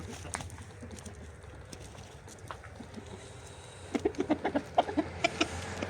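Chickens and a rooster in a village yard, with a run of short clucking calls rising near the end over steady background noise and a low hum.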